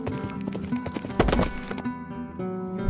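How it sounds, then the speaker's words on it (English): A horse gallops in an animated cowboy story, with rapid, fairly loud clip-clop hoofbeats and a brief whinny over a musical backing. "I found myself lying on the back of a galloping horse."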